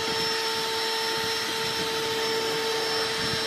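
A vacuum cleaner runs steadily and close up, droning without a break as it cleans the sticky carpet inside a Chevy truck, with a constant whine over a rough low rumble.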